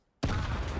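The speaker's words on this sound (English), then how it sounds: "Lovely nade barrage." Grenade barrage in a Counter-Strike match between NAVI and Heroic at DreamHack Masters 2021, a sudden loud blast bursting out of silence and followed by a dense, sustained rumble of overlapping explosions.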